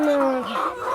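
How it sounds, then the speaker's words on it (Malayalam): Chickens on a farm with broilers and country hens, one close, loud drawn-out clucking call sliding downward, followed by softer clucks and bird noise in the coop. "ഇങ്ങനെ കുറേ കോഴികളുണ്ട്."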